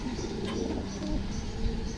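A pigeon coos softly amid faint background noise, low murmuring calls close by.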